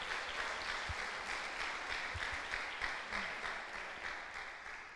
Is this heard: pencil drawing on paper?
no